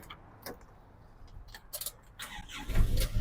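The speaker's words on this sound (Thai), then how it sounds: "สตาร์ททีเดียวติดนะครับผม" A 1999 Toyota Hilux Mighty-X 2.8 diesel pickup engine cranks with a few clicks and rattles, then catches first try and rises into a louder running rumble near the end.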